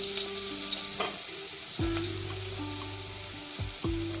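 Hot oil sizzles steadily with a crackling hiss as garlic fries for tempering, broken by a few clinks of a utensil stirring the pan. No voices.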